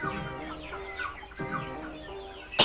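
Several Indio Gigante chickens, six months old, cluck in short repeated bursts, fairly close, with a busy background of other birds and a louder squawk at the end.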